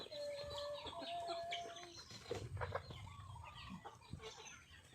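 Chickens cluck and squawk after an evening feeding on a Thai farm, several birds calling close by in irregular bursts over a busy background of rustling and movement.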